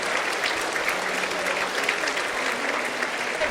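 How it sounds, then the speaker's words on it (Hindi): A studio audience claps steadily at a makeup demonstration stage event, a dense, even patter of hands at moderate distance, sustained without pause. "एक बार जोरदार तालियां for the most amazing and the girl with the magic hands, आकृति गांधी"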